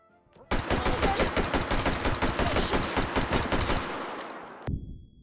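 A flashbang grenade goes off in the VR shooter Hot Dogs, Horseshoes & Hand Grenades, a loud sustained crackling burst of rapid popping blasts lasting several seconds before cutting off abruptly.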